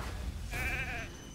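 A single wavering sheep bleat from the video game Raid: Shadow Legends, lasting about half a second and standing out clearly over a low, steady game background.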